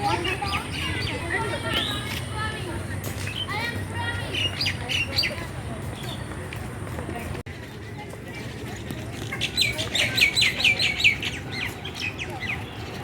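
Birds chirp and tweet in an eco park, with bright repeated calls heard over steady background noise and people talking nearby throughout.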